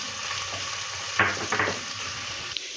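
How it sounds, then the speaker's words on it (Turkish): Flour roasts in oil with onion and tomato paste in a pan for Turkish ezogelin soup, a soft steady sizzle with a few brief scraping strokes of a spoon stirring close by, and no talking. "yağımız, soğanımız, ve salçamızı güzel unumuzu güzelce kavurduk"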